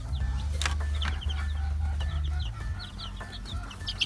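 Day-old heritage chicken chicks in a brooding pen on a free-range farm, a steady chorus of high, rapid peeps and cheeps over a low continuous hum, close and fairly loud.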